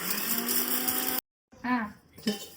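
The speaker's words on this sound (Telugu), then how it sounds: "ఇంకా ఒకసారి మెంతులు వేసి మళ్ళీ మిక్సీ కొట్టాను" A mixer grinder grinding fenugreek seeds whirs loudly and steadily, stops abruptly, and after a short silence a person talks.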